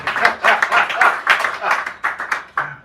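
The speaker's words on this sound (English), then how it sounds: "Give him a round of applause for that." Audience applause at a poetry reading in a cafe, a steady patter of many hands clapping at close range for about three seconds, with claps pulsing and thinning briefly before picking up again.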